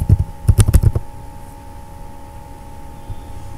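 A quick burst of computer keyboard keystrokes entering a package name, several sharp clicks close together in the first second, then only a faint fan-like hum.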